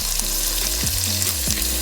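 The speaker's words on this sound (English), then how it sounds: "while my pancetta is rendering and frying away" Pancetta rendering and frying in a pan, a steady close sizzle and crackle of fat with a few soft stirring scrapes, no voices.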